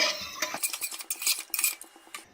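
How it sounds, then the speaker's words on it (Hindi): A spoon scrapes and clinks around the inside of a metal pressure cooker while stirring chicken soup, in quick, uneven strokes, close and fairly quiet. "अच्छे से स्टर करेंगे।"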